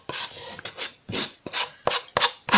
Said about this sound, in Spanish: con una lija, yo de taco, voy a lijarla un poco, unas imperfecciones que pueda tener la madera